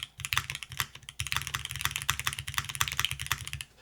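Rapid continuous typing on an Aepex 60 mechanical keyboard fitted with Cherry switches, close-up and crisp, with dense clacky keystrokes and a few brief pauses, no voices.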